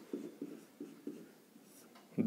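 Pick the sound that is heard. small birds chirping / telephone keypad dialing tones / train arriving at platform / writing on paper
writing on paper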